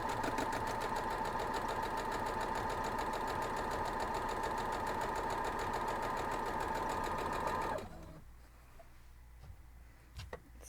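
A sewing machine runs steadily at close range while stitching a diamond pinwheel quilt block, a fast, even mechanical whir for about eight seconds that stops, followed by a few faint clicks and handling sounds.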